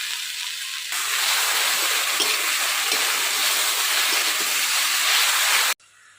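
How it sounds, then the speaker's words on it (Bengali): Greens frying in hot oil in a pan burst into a loud, steady sizzle as a splash of water is added, hissing continuously for several seconds before cutting off abruptly. "সিদ্ধ হওয়ার জন্য অল্প একটু জল দিয়ে দিলাম"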